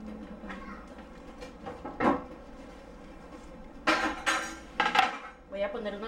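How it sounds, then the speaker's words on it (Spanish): A wooden cutting board and a hot baking dish of Swiss enchiladas are set down on a kitchen counter, with several sharp clattering knocks near the middle and end. A faint voice talks in between. "Voy a poner una tabla para poner el refractario porque está caliente"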